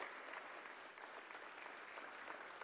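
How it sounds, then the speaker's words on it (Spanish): Audience applause at a Venezuelan Misión Sucre anniversary event, a dense, even wash of many hands clapping, steady and sustained throughout, heard somewhat distantly without speech on top. "Damos un aplauso a este joven líder, a esta mujer líder."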